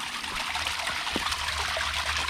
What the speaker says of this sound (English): pure water coming right out of the ground